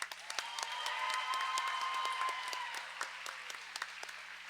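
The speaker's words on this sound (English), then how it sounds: "please continue clapping for all of our officials on skates and off" Steady clapping from the roller derby crowd for the skating and off-skate officials, with a cheering voice rising briefly before the applause thins into scattered claps.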